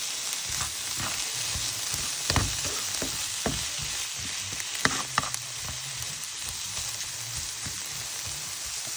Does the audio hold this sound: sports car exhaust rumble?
no